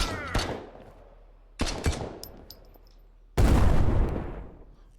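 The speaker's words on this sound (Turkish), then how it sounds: "Daha da geliştirilebilir bu patlama efektleri." A barrel blows up in a Turkish-made adventure game, with gunfire effects around it: three sharp bursts, each a loud crack with a decaying tail, and the last and heaviest is a booming blast.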